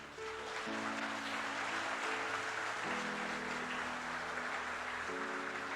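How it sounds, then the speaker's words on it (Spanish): A church congregation applauding during a Spanish-language sermon, a steady dense wash of clapping across the room, with sustained organ or keyboard tones underneath. "¿Cuántos aplauden al Señor?"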